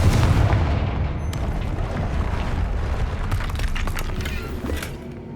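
A Confringo explosion spell in Hogwarts Legacy bursts with a deep boom at the start, then rumbles and crackles away into a lingering low roar of debris and wind.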